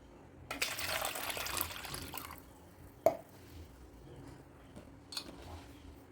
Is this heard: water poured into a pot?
yes